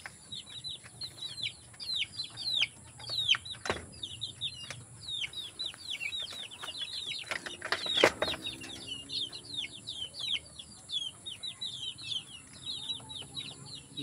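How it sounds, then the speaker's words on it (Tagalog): A flock of chickens chirps and clucks, with a flurry of flapping wings partway through, all at moderate distance outdoors. "Mga manok natin."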